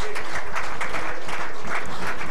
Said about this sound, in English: Can we deliver another round of applause now?